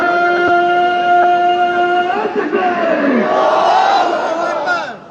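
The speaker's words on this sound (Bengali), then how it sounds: "এইভাবে মববাজি করে নারায়ে তাকবীর স্লোগান দিয়ে 5 তারিখে ইসলামী ব্যাংক দখল করা হয়েছিল।" A crowd shouts the Nara-e-Takbir slogan in a mass chant at Islami Bank, loud and close, with a sustained unison call breaking into overlapping yells and roaring voices.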